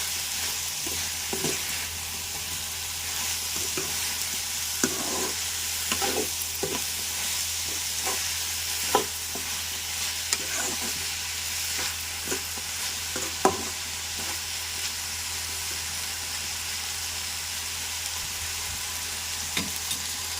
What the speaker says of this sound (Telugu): ఇప్పుడు పైనుంచి కిందకి, కింద నుంచి పైకి అలా కలపాలండి